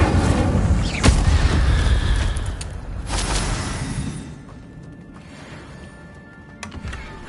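Casting the Incendio fire spell in a Harry Potter video game sets off a sharp booming burst with fiery whooshes and crackles that stays loud for about three seconds and then tails off, with smaller cracks near the end.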